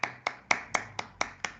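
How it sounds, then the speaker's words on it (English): Seven sharp hand claps at an even, moderate pace, each crisp and close, with silence between them; a single person rather than a crowd. "Let's give them a big applause"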